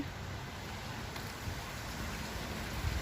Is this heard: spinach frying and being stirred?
no